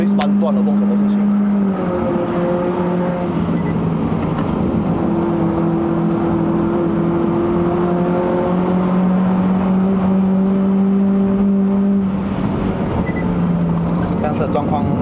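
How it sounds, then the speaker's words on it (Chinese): A Mitsubishi Lancer 2.0 GT with a CVT climbs the mountain road up to Genting Highlands in Malaysia, its engine a steady loud drone whose pitch holds, drops and rises again, heard from inside the cabin with voices at times. "这辆车状况很好嘞，那个引擎很精神"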